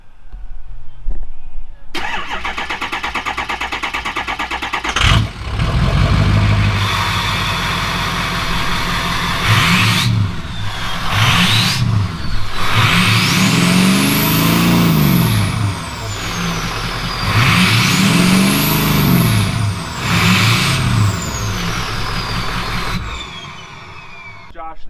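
A Ford 6.0 Powerstroke diesel truck with its exhaust cut off right after the catalytic converter spot cranks and fires up, then idles loudly and revs in repeated rising and falling surges close to the microphone.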